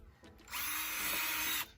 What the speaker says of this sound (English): I'm going to just drill 1 hole each board and tack it in on one side